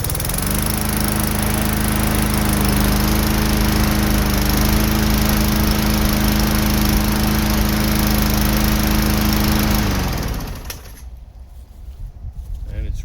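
A DeWalt 21-inch self-propelled lawn mower with a 150cc Briggs and Stratton 625EX engine runs steadily and loud at close range for about ten seconds, then cuts out, leaving quiet ambience with faint birds.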